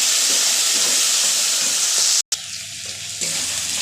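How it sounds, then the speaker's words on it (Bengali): Ginger, garlic and onion paste frying with potatoes in a crab curry, a steady close hiss and sizzle that cuts out briefly and returns, with faint stirring clatter. "পেঁয়াজ রসুন আদাটা দিয়ে একটু নেড়েছে, এই যে দেখো ভাজা ভাজা হয়ে গেছে।"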